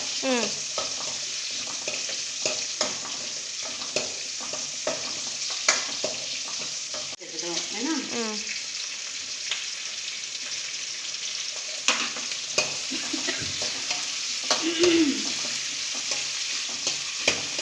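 Spice powder frying in a pan, a steady broadband sizzle with scattered stirring scrapes and a few soft clinks, close and even throughout, no voices.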